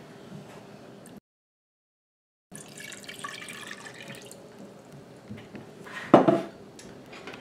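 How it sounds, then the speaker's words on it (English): Two cups of water are poured into a pot of taco soup with beef bouillon. Soft, faint trickling and drips are broken by a brief silence, followed by a louder splash near the end. "I'm going to add my 2 cups of water."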